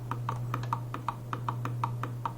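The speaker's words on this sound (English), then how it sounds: "Very clicky Deathadder V2 DPI buttons" Crisp, sharp clicks from the DPI buttons on a Razer DeathAdder V2 gaming mouse, about a dozen rapid evenly spaced presses, close up over a steady low electrical hum.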